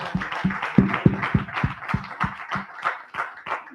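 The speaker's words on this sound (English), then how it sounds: "Could we have a round of applause," A round of applause rises from a conference audience, distinct claps close and fairly loud at first, thinning and softening toward the end.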